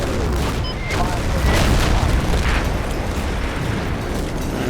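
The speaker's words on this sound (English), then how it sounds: "And the German arty's still falling" German artillery barrages in the WWII game Combat Mission Battle for Normandy, heavy low booms and rumbling blasts overlapping continuously, with a faint voice briefly present.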